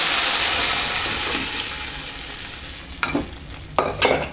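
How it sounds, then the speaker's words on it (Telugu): Cooked lentils for cucumber-tomato dal poured into a sizzling tempering, a loud hiss that fades, followed by several spoon stirs and scrapes against the pot, no talking. "ఇప్పుడు మనం ఉడికించుకున్న పప్పుని ఇందులో వేసేద్దామండి."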